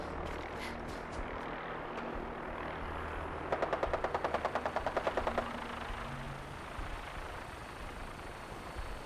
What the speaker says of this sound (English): bullets blasting a fucking trash can off the top of the roof